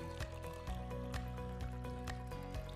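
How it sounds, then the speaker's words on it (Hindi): Water is poured into the input tank of a Sharp water purifier pitcher, giving a close, faint gurgling fill with small drips and trickles over a quiet steady tonal background. "कवर के इस छोटे हैच को खोलिए और इनपुट टैंक में पानी डालिए।"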